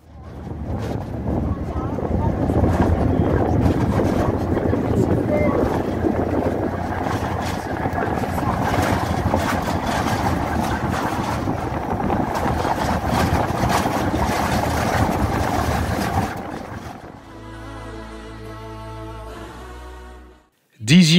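A vehicle drives at night on a rough, uneven dirt track back to a lodge in Namibia, giving a loud, continuous rumble of engine and road noise with jolts. Near the end the rumble drops away into quieter sounds.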